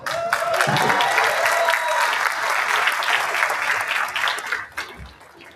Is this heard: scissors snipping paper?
no